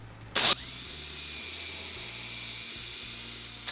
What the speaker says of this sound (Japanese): ではドリルガイドで穴を開けます。